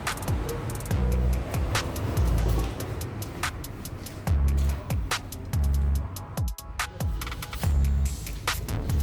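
A BMW E90 330d diesel engine idles after a sensor replacement, with a repeating low throb and intermittent clicks and knocks running steadily throughout.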